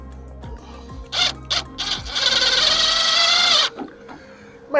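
A power driver runs screws into a metal downspout in a few short bursts, then a longer steady whine, close and loud against a quiet background.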